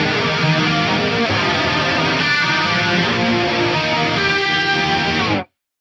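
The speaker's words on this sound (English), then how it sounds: "let's just quickly recall that faux rotary from the multi-tap delay block" Electric guitar playing sustained chords through a swirling, warbling faux rotary effect from an FM3 multi-tap delay block, loud and continuous before cutting off abruptly.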